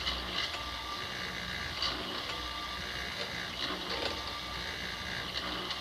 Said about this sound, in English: Then I'll take this grinding wheel down a little bit at a time.